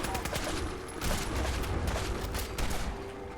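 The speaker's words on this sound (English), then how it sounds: "I'm shooting over here." Dense gunfire crackles in a video game shooter in fast, continuous bursts that rise again near the end, loud and close.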